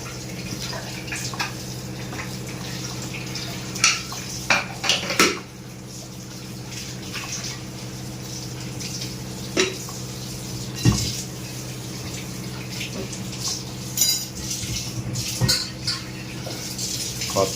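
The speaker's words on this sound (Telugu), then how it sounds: "ఒకసారి పప్పు ఉడకబెట్టిన కుక్కర్ కూడా కడిగేస్తుంది అనమాట" Running tap water splashes continuously while a pressure cooker used for boiling dal is washed in a kitchen sink, with scattered sharp clinks and knocks of metal against the sink.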